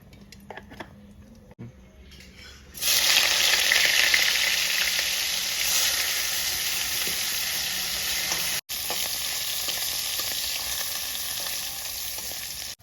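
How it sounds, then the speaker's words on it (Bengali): Dried fish frying in a pan: a loud, steady sizzle begins suddenly after a quiet start and continues close-up, with a short break partway through. "শুটকি মাছটা খুব ভালো করে ভাজা হয়ে গেছে"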